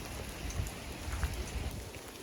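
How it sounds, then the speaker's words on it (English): Steady rain falling on the Appalachian Trail, a dense close patter with a soft, even hiss throughout and no voices. "here in the rain."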